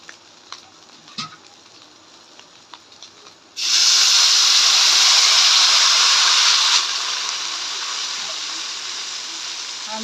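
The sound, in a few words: water poured into pan of fried rice and vegetables for khichuri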